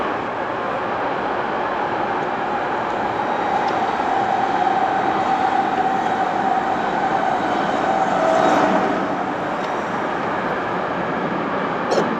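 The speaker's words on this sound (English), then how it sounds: "Train." A train rumbles past at steady volume while heard from an electric scooter, a broad roaring wash with a faint metallic whine rising and swelling near the end before settling.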